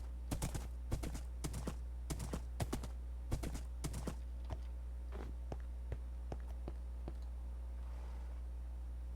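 A horse walking in the video game Minecraft produces crisp clip-clop hoof steps in a steady rhythm, close and clear over a low constant hum, tapering off and thinning toward the end, with no talk.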